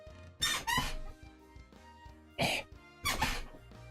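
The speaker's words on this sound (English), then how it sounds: "God dang squeaky chair. Quit squeaking." A creaky chair squeaks in short bursts indoors, two quick squeals followed by a pause and two more, close to the microphone with no talk.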